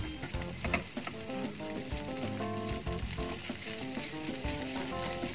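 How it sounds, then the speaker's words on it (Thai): Herbal fried rice is stir-fried over low heat in a Teflon pan, with a soft steady sizzle and regular scraping and tossing strokes. It is fairly quiet and close, and nobody speaks. "เป็นกระทะเทฟลอนนะคะเพราะฉะนั้นเนี่ยจะผัดยากกว่ากระทะธรรมดาหน่อยนึงนะคะ"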